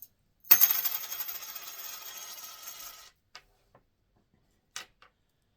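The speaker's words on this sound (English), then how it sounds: "So I'll be throwing these coins 6 times." Coins are tossed for an I Ching reading, landing with a bright metallic jingle that rings and fades over a few seconds, then a few light clicks follow in a quiet room.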